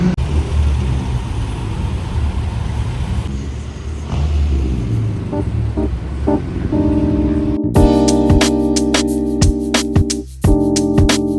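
A queue of collector cars, including a Porsche 911 ST, idles and creeps along in downtown Manhattan, engines rumbling steadily and close, with a faint tonal whine and higher sustained tones joining in the later part.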